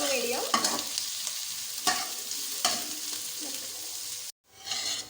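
Onions frying in medium-hot oil over a low-to-medium flame for a potato biryani, with a steady close sizzle and a few stirring scrapes, then a brief drop to silence before the sizzle resumes.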